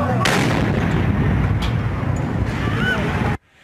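A single powerful blast booms outdoors in winter in Kharkiv, a remote-detonated explosive hidden in snow near a marching column, followed by a rumbling roar that cuts off abruptly.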